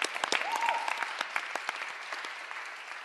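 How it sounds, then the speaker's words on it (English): Audience applause at a public board meeting, scattered claps rising quickly and then thinning into a softer patter, with a faint tonal sound early on. "I want to stop and just applaud that."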